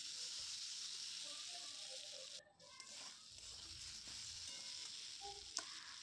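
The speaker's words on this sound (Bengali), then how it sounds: "তারপর এটাকে ভালো করে নেড়েচেড়ে কষিয়ে নিচ্ছি" Cumin and coriander powder being stirred and fried in a pan for a soybean and potato curry, a steady sizzle and hiss with faint scraping, continuous and close.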